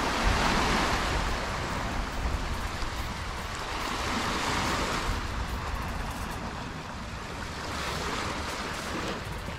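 Waves surge steadily onto the stony shore of Pantai Celong in Batang, a continuous broad wash of surf with gentle swells in loudness and some wind noise, heard from nearby with no talking.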